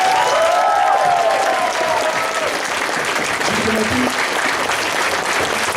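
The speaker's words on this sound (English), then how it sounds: "a huge round of applause" Convention crowd at a furry con closing ceremony breaks into sustained applause, a dense, steady wash of many hands clapping with faint cheering mixed in throughout.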